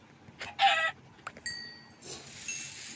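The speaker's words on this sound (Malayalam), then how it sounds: "കോഴി" Minecraft chickens clucking in a one-block game world: a few short, bright clucks in quick bursts, fairly close, alone with no talk, separated by brief quiet gaps.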